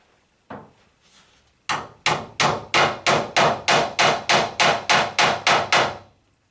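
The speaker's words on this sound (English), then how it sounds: "it needs to be fixed into the batten above, usually with a tack nail" A tack nail is hammered into a roof batten during installation of an Ubbink UB8 plain and clay slip tile vent, with one sharp opening blow and then about a dozen loud, evenly spaced hammer strikes.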